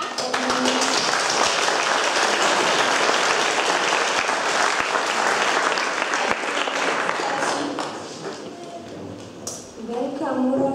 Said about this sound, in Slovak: Za to si zaslúžia potlesk a odmenu.